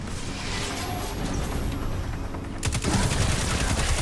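Rapid automatic gunfire in Destiny 2, loud and continuous throughout, with a denser, heavier burst of rattling shots near the end.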